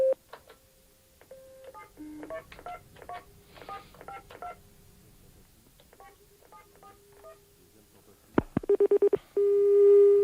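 Telephone keypad tones dial out a number in short irregular bursts, followed by a run of rapid beeps and then a steady ringback tone as a call is placed, with no voice heard.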